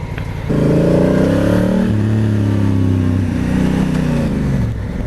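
A Honda CRF1000 Africa Twin DCT adventure motorcycle's engine hums steadily while riding, a close, continuous mid-pitched drone that rises slightly then eases off over a few seconds, with no talk.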